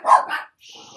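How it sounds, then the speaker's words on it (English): Dogs barking indoors, two quick loud barks close by followed by a fainter yip, short and sharp. "the dogs have just gone mad"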